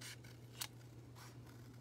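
Scissors snip through paper while cutting around a shape for a handmade book journal, a few quiet crisp cuts with one sharper snip, faint and close against a steady low hum.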